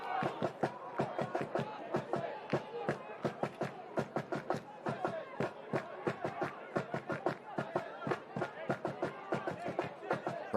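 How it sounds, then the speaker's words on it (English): At a college soccer semifinal, a crowd and student section keep up rhythmic chanting or clapping in sharp regular bursts, steady and fairly close throughout. "Crowd really into it."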